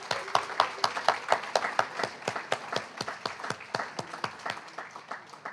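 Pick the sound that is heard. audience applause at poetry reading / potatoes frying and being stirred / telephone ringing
audience applause at poetry reading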